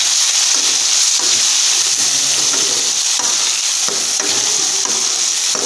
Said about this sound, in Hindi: अब हमने इसको अच्छे से भूनना है।